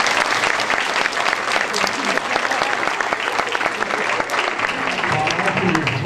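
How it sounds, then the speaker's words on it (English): An audience at a school award ceremony claps loudly and steadily, a dense continuous wash of applause filling the room from start to finish, with cheering blended into the clapping. "Let us cheer and recognize Mistress Allison Olson."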